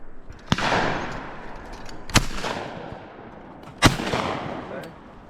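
Shotgun fired at clay targets at a shooting meet, three sharp outdoor blasts about 1.5 seconds apart, each with a short echoing tail.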